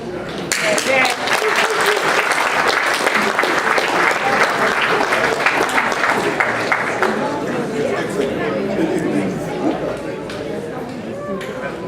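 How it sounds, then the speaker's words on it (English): An audience applauds after an academic presentation, with loud continuous clapping for nearly twelve seconds, mixed with crowd chatter and voices, easing slightly toward the end. "Please give another round of applause."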